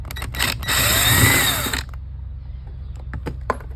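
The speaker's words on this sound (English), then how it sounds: "Then I do need to take this screw off" Power tool backing out a screw from a Toyota door check, a short close whirring burst of under two seconds, followed by quieter handling clicks and taps.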